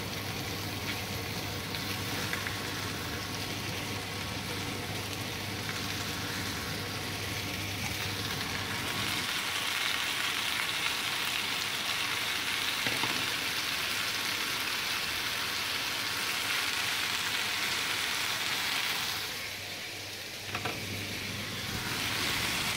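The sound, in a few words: washed vegetables (sawi putih) sizzling as they stir-fry in pan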